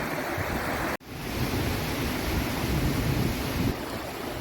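A small waterfall beside a walking track at Arthur's Pass, New Zealand, gives off a steady, even rush of falling water, with a brief dropout near the start and no talking.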